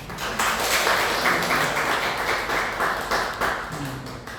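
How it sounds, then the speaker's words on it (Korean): A congregation claps together during a Sunday church service, a dense patter of applause that swells and then gradually fades. "한 번 더 박수 한번 드립니다"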